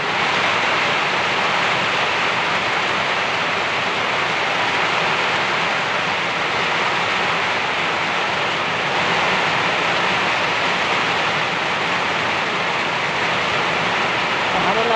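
Heavy rain on a rainy afternoon during outdoor cooking of native chicken soup, a loud, dense, constant hiss of downpour that does not let up.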